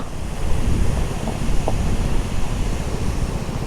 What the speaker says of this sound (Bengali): মারাত্মক লাগছে ঝর্ণাটা মারাত্মক